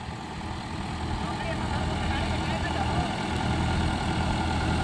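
A tractor engine idles after the tractor has become stuck in a field, giving a steady low rumble that runs continuously at moderate volume with faint background noise throughout.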